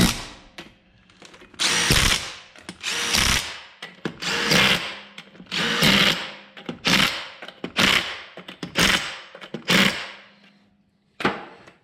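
Power tool tightening the control arm bolts on a Jeep Gladiator during a 2-inch lift kit install, running in a series of loud, close bursts with short pauses and ratcheting rattles between them.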